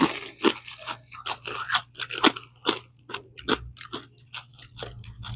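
Close, rapid crunching of a crisp snack being chewed, irregular sharp crackles one after another, loud and with no talking.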